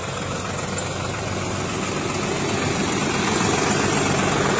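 A tractor engine idles steadily and fairly loud at a roadside accident scene, a low continuous rumble that builds slightly toward the end, with no talk over it.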